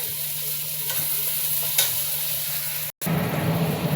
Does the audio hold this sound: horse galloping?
no